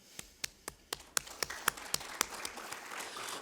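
Sparse, faint clapping from a small conference audience, a handful of distinct claps speeding up into a brief soft patter.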